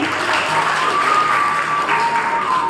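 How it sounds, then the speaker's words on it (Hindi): A short burst of steady crowd applause at a Brahma Kumaris spiritual talk, many hands clapping together for a few seconds. "इनके लिए ताली बजाइए"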